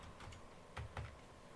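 Typing on a computer keyboard, a few faint, sparse key clicks, two slightly louder taps close together, in a quiet room with no voices.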